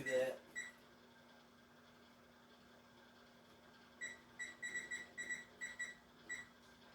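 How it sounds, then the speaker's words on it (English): A kitchen timer is set for an hour beside a running food dehydrator, giving a string of short, faint electronic beeps in quick succession over a low steady hum, with a brief louder sound at the start. "as the thing is running, I'll put an hour on my timer"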